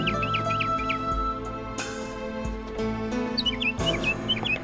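Pet birds in a bird shop chirp in quick bursts of short, high tweets near the start and again at the end, over a steady low background hum.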